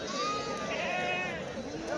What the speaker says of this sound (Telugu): మేకలు అయితే ఉన్నాయండి.